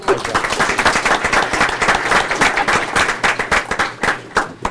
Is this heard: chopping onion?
no